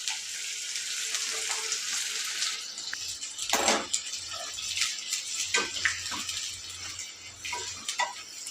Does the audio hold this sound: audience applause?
no